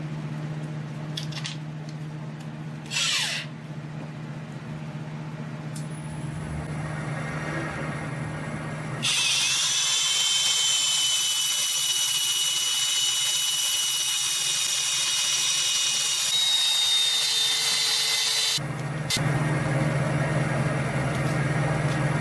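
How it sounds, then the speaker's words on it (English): Sandpaper works the outside of a turned wooden box on a lathe: a steady, loud hiss of sanding runs for about ten seconds over the motor's low hum, then drops back to the lathe alone. "Going to do a little bit of sanding"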